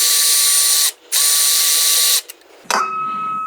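Ratchet wrench backing out 12mm bolts on a Mitsubishi EVO X engine during a fuel system upgrade: two loud, rapid clicking ratchet runs close up, a short pause, then a lighter metallic rattle.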